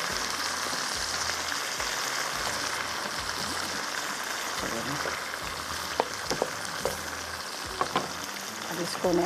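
Sarson ka saag, a mustard greens dish, is fried in a pan with a steady, dense sizzle and occasional stirring scrapes, close and continuous throughout.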